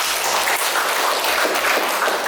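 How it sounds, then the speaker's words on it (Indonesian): Steady applause from a group, a dense continuous patter of clapping at moderate loudness with no voices over it. "Berikan tepuk tangan"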